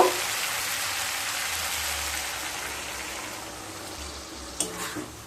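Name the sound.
spice-rinse water poured into frying drumstick curry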